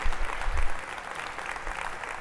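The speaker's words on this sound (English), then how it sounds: "Let's give Philip and Joan another round of applause" Audience applause at a 2018 opening-day convocation keynote, a short burst of many hands clapping close and fairly loud, fading slightly toward the end.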